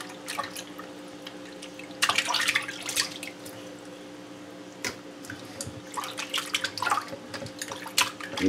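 Water from a tap splashes and trickles in uneven bursts while fish are being washed, fairly faint and close over a steady low hum, with no talking.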